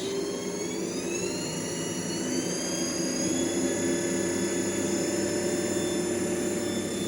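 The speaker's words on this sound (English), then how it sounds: "So we're gonna start our 3-phase motor." A three-phase motor spins up while driving a separately excited DC generator, its whine climbing steadily in pitch over a constant loud mechanical hum, with no talking.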